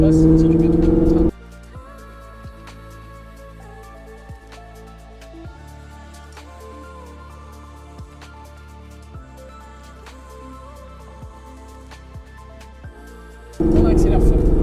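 A Ford Mustang accelerates hard on the Laquais race circuit, its engine note climbing in repeated rising sweeps as it pulls through the gears, steady and prominent inside the car.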